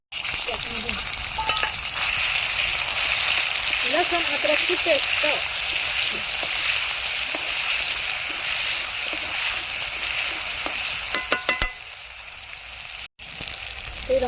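Fish fries in a pan with a loud, continuous close sizzle and crackle throughout, while someone talks briefly over it and a few clinks of a utensil sound near the end.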